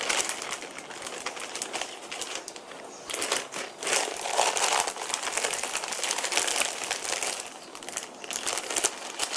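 A plastic zip bag holding meat and thyme leaves crinkles and rustles in bursts, close and fairly loud, with irregular crackling handling noise and no talking.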